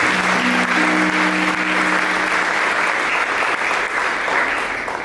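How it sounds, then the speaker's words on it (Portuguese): Loud, sustained applause from a church congregation at a Catholic gathering led by a priest, a thick continuous roar of clapping with a faint steady hum beneath it early on. "palmas a esse Deus que é maravilhoso."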